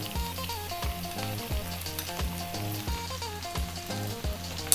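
Zucchini, mushrooms, onions and garlic sizzle steadily in a pan for spaghetti sauce, a continuous frying hiss underneath rhythmic background music.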